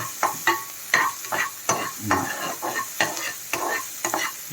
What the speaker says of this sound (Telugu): ఉప్పు వేసి అన్నం కలుపుకొని అన్నం బాగా మళ్ళీ మంచిగా వేగాలి